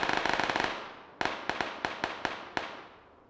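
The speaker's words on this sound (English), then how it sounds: "And we heard all this gunfire going on." Bursts of gunfire in the battle royale game PUBG: a rapid string of about ten shots, then seven or so single cracks spaced unevenly, all distant-sounding and fairly loud.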